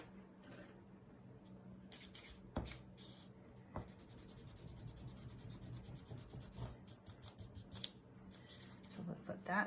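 An eraser rubs across a paper watercolor floral printable in short, close scratchy strokes, quiet and intermittent, with a few sharper taps and a soft voice speaking in places.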